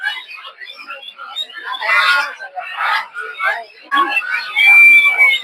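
A crowd of native ducklings at a poultry market peeping and cheeping nonstop, shrill overlapping calls rising and falling, with a thin whistle near the end.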